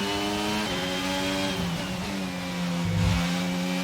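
An F1 22 racing car engine at the Canadian Grand Prix screams at high revs, pitch dropping and climbing through gear shifts and braking, loud and close with no talk over it.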